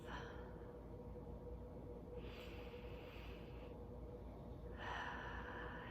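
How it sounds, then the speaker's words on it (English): A deep breath taken during a meditation: two slow, soft airy breaths, an inhale and then another, heard close but faint over a steady low background hum, with no talking. "just go ahead and take another deep breath"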